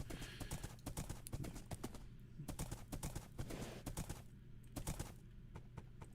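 Minecraft horse hooves clip-clop at a steady walking pace over a low droning background, with an occasional faint chirp; no talking.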